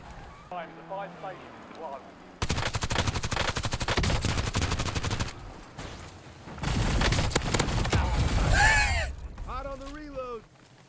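Rapid bursts of automatic gunfire from a 70-round close-range weapon in the video game Warzone, two long loud sustained volleys close up, with someone talking before, between and after them.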